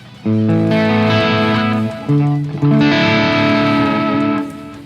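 Heavily distorted electric guitar chords from a Schecter Banshee through a Peavey 6505+ tube amp and Marshall 1960 cabinet, gain high, ring out loud and sustained, two long strummed phrases with a brief pause between them.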